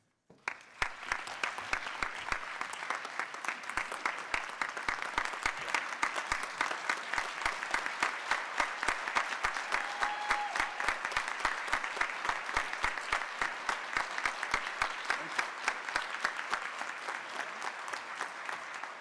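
Sustained audience applause at a State Bar of Georgia Board of Governors annual meeting, steady rhythmic clapping from a large room that swells in after a brief start and carries on for many seconds.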